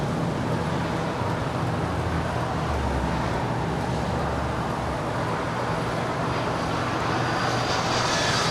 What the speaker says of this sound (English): Just had another FedEx MD-11 land at 25 left